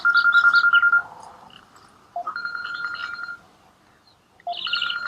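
A mobile phone rings with an incoming call, a bright electronic ringtone playing in loud repeating bursts separated by short gaps, with no talking.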